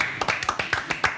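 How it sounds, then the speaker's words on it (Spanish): Studio audience on a Spanish-language evening talk show claps for an arriving guest, several sharp hand claps in a short irregular burst, moderately loud and close, no voices over it. "Fuerte el aplauso para él."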